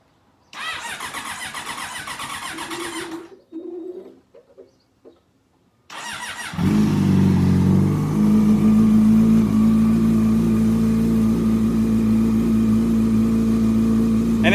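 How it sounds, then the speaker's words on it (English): A Yamaha R6 motorcycle engine, just reassembled after a valve clearance check, cranks and fires up loudly, then settles into a steady, close idle after a few brief handling noises. "We're back in mostly one piece here, so. Let's hear it run."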